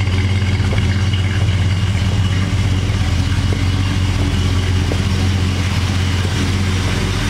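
A 1969 Plymouth GTX muscle car engine idles with a deep, steady rumble close by, loud and unbroken, with no talking.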